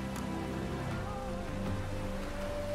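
Rain falling in the video game The Witcher 3: Wild Hunt, a steady dense patter over a low ambient hum, continuous and fairly close, with no voices.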